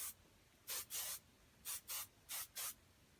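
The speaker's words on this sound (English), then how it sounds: "And then I'll just take my big sexy hairspray" Big Sexy Hair hairspray is sprayed onto hair in three pairs of short, close hissing bursts separated by quiet pauses, soft and alone with no talk.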